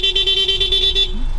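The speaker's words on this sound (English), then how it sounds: "Honking battle?" Car horns honking at a street car meet: a steady, loud held honk lasting about a second, then a brief lower toot and a short new blast right at the end, over a noisy crowd background.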